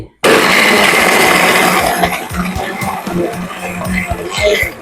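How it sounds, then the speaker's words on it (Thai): An electric multipurpose blender crushes ice into a red drink, a loud continuous whirring grind with rattling ice chunks that starts abruptly and runs steadily throughout. "ผมจะปั่นน้ำแดงนะครับ แล้วก็ปิดฝาแล้วก็เริ่มปั่นเลย"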